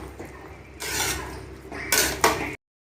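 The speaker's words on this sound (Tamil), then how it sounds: "கொண்டக்கடலை காய்கறிலாம் நல்லா கிரேவியோடு நல்லா மிக்ஸ் ஆகிற அளவுக்கு நல்லா கலரி விட்டுக்கலாம்" A spoon stirs a chickpea and vegetable gravy in a pot, producing a few close scraping and clattering bursts against the metal, separated by quieter pauses.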